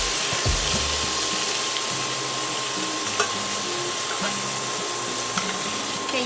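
Carne asada sizzling and frying in a pan, a steady crackling hiss running throughout with faint stirring and scraping knocks, close and moderately loud.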